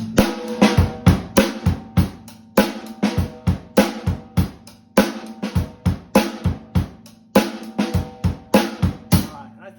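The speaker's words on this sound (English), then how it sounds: "this is a basic hip hop groove" A basic hip hop groove on a drum set, with a punchy kick and snare in a repeating, steady mid-tempo pattern under bright hi-hats, close and loud with no talking.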